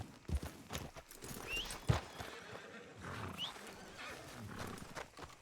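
A horse in the video game Red Dead Redemption 2 gives a few faint hoof thuds and a soft whinny-like call over a low, muffled game ambience.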